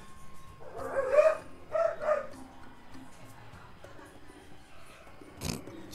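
A dog barks from another room, a few muffled yips and woofs early on, faint and distant in a quiet indoor space, followed by a brief thump near the end.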